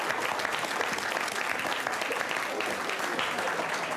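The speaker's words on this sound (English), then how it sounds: "Let me finish before you clap." A crowd at Olusegun Obasanjo's book launch breaks into loud, sustained applause, a thick, even roar of clapping for about four seconds with no one speaking over it.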